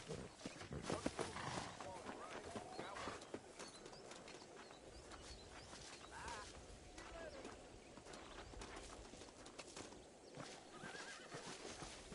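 Horse neighing and clip-clopping hooves in the Red Dead Redemption video game, a whinny early on over steady hoof steps, with birds and game dialogue speaking throughout.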